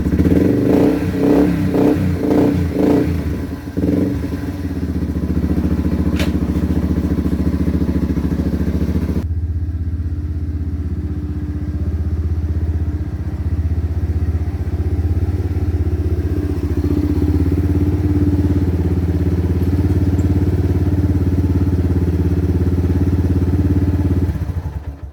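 A Yamaha TTR 230 dirt bike engine cranks and catches with a few sputtering revs, then settles into a loud, steady, close-up idle that runs with a low chugging rumble for the rest of the stretch.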